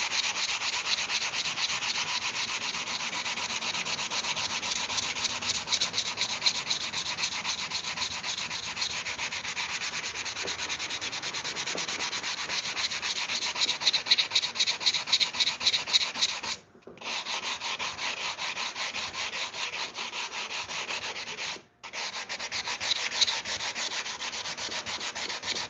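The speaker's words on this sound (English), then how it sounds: "We'll take a 120 grit real quick," Sharp wood edges are hand-sanded with 120 grit sandpaper in quick, continuous rasping strokes, close and steady, broken only by two brief pauses.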